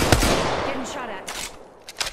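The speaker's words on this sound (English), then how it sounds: "Getting shot at." Loud video game gunfire opens with a heavy burst, fades into scattered echoing shots, then snaps back with a few close cracks near the end, while a player's voice speaks over it.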